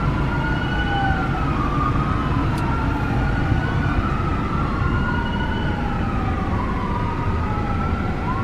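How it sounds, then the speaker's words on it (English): Wailing sirens sweep up and down steadily over a constant low rumble of traffic, fairly distant and continuous throughout. "Sorry about the sirens in the background."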